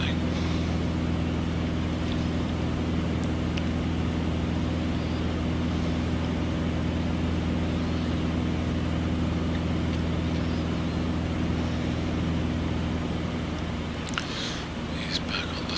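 A simulated A2A V35B Bonanza piston engine in a flight simulator game holds a steady, droning hum at constant throttle throughout, with a few faint clicks near the end.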